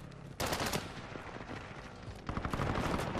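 Gunfire in Call of Duty Warzone on the Caldera map, loud automatic bursts of rapid shots with a short lull between two heavy volleys, close and dense.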